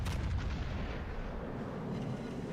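Warship naval gunfire in World of Warships: Legends, with a heavy booming salvo at the start followed by rumbling decay and lighter scattered shots, loud and without voices.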